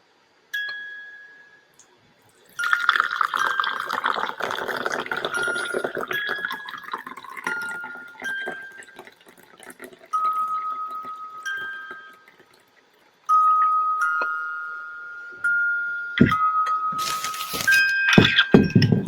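Tea pours steadily into a cup in several slow streams while a tinkling music box melody plays alongside, with faint drips and clinks.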